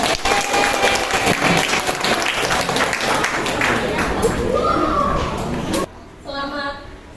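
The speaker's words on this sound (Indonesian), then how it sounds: "Tepuk tangan yang meriah untuk kelas 3." Loud, sustained audience applause at an Islamic Montessori elementary school after a third-grade class performance, continuous clapping that cuts off abruptly near the end, followed by faint voices.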